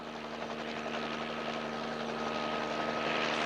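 A police helicopter drones steadily overhead, a constant loud rotor and engine hum with a faint rhythmic flutter, holding even throughout with no voices.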